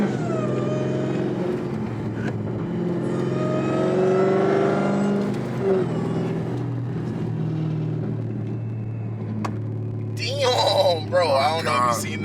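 A Dodge Hellcat engine pulls hard under full throttle, a loud, deep rumbling drone whose pitch climbs, with a voice briefly breaking in near the end.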